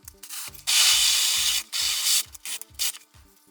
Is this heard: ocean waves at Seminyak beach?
no